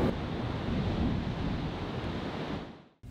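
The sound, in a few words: ocean waves breaking on the shore at Imperial Beach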